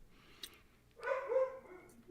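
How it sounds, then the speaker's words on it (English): Dogs bark in the background from about midway on, a short cluster of muffled, moderately distant yelps rising and fading over a quiet room. "Can you hear the dogs in the background?"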